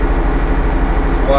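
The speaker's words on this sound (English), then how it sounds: "Slow hydraulics on this tractor." Tractor engine running steadily close by during slow hydraulic work on a farm, a continuous low rumble with a mechanical hum throughout.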